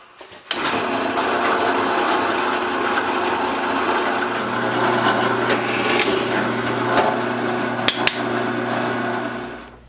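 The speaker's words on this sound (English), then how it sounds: "I'm doing all the partial holes first, and then I'll do the through holes." A drill bores holes into a wooden blank for a handmade push toy, a steady loud whirring grind running nearly ten seconds with a few sharp knocks, starting and stopping abruptly.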